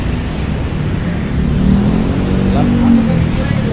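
A Honda Soul GT 125 motorcycle engine, kick-started and idling: a steady, close, low mechanical drone with a slight rise partway through, while someone talks over it.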